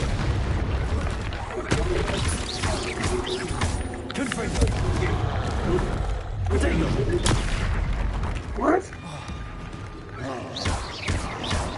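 Confringo blasting curse explosions in a Hogwarts wizarding video game, a string of booming blasts and crackling impacts spread through the stretch, with a voice shouting spells in between.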